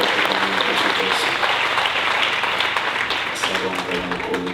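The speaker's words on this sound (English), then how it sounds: "If the church can help me just to clap hands and honor the Bishop" A church congregation claps hands to honor a bishop, with loud, dense applause filling the room and voices speaking over it.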